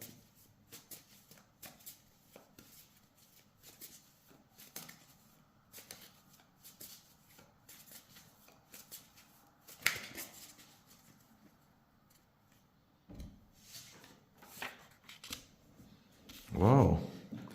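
A deck of oracle cards is shuffled and picked by hand with soft riffles, slides and taps. The sounds are close, quiet and intermittent, and a brief louder rustle of a card being drawn comes near the end.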